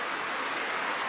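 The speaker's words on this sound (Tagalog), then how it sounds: "Kusog kayong ulan." Heavy rain pours down as a steady, dense, even hiss with no pauses or other sounds.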